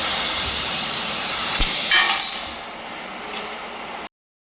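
A 3-in-1 fiber laser cleaning, welding and cutting machine running at full power in cutting mode, giving a steady broadband hiss with a brief brighter burst midway before it cuts off abruptly.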